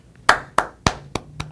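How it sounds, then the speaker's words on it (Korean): Five sharp, separate hand claps spaced about a quarter second apart, close and distinct, with a faint low hum beneath and no voices. "박수!"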